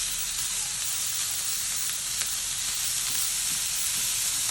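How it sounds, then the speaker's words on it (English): Ground beef sizzles steadily in a hot pan as it is broken apart, a loud, continuous frying hiss with faint stirring scrapes and no talk. "We're gonna be breaking down the beef."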